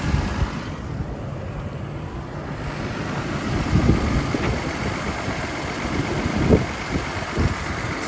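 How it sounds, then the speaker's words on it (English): 1982 Datsun 280ZX engine idling smoothly with the hood open, a steady close mid-low engine drone with a few light knocks and clicks over it, no voices. "Running nice and smooth."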